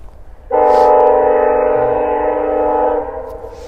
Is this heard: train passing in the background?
yes